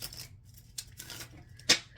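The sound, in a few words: shuffling tarot cards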